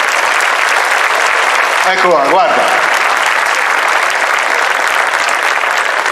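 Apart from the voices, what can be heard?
audience applause at Miss Toscana show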